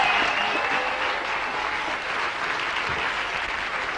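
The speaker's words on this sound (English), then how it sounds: "Steve Parrish, give him a round of applause" Studio audience applause for Steve Parrish on a radio show, steady and full, a dense wash of clapping that holds evenly for the whole stretch.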